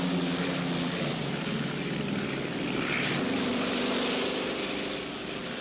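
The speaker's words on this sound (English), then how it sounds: "Penny, the next time you round the pylon, give her full gun and keep her nose down" A propeller airplane engine roars at full throttle as the plane rounds a pylon in an air race, a loud continuous drone with a slight swell in the middle and no voices.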